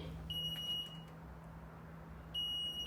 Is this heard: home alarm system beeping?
yes